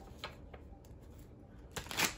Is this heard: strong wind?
no